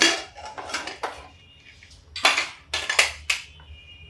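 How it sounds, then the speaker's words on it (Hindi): Pressure cooker of sweet corn curry being opened: metal lid and pot clanks and scraping utensil sounds in short bursts, close, with quiet gaps and no talk. "देखिए मैंने अपना प्रेशर कुकर खोला है"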